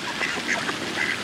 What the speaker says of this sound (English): A lot of ducks.